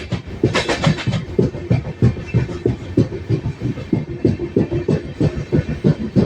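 A moving passenger train on the Gandhidham to Tirunelveli route, heard from inside a coach, gives a loud, rhythmic clickety-clack of wheels over rail joints in steady repeating beats.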